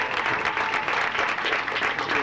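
Wedding guests applaud a speech at a 1995 wedding reception, a dense, steady wash of many hands clapping close by, with some voices mixed faintly underneath.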